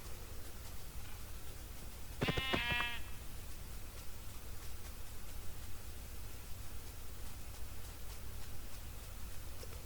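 A single Minecraft sheep bleats once, a short wavering cry, over a steady hiss of background noise that otherwise fills the quiet stretch.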